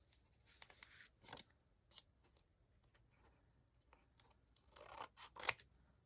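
Scissors snip through paper during a papercraft project, a few short crisp cuts scattered across the moment and a denser flurry of closer, louder snips toward the end, with quiet room tone between.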